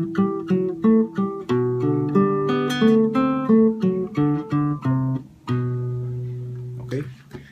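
Lead phrase of a song picked slowly on guitar, a run of about fifteen distinct plucked notes in a clear melodic line, ending on a longer held note, close and alone with no talking.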